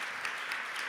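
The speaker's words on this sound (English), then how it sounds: "You can clap if you want." An audience at a panel talk during the Berlinale Talents festival in Berlin claps briefly, a dense, even patter of many hands filling the short moment.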